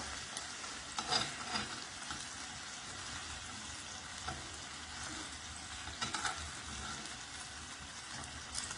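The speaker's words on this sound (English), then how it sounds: "continue to do this until you see it, the brown sugar becoming caramelized and forming a glaze on the kielbasa." Brown sugar glazed kielbasa bites sizzling and frying in a pan while being stirred, a steady faint crackle with occasional louder scrapes, no talk.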